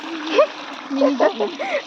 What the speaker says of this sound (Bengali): মিনি ঝর্ণা